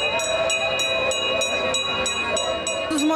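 A small decorative train at an Italian serenata festival honoring Italian immigrants gives off adapted steam and horn effects that mimic a locomotive: a steady, close rushing hiss with rhythmic chuffing bursts and whistle-like tones throughout.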